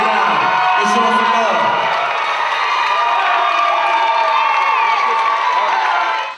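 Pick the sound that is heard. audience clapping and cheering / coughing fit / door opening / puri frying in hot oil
audience clapping and cheering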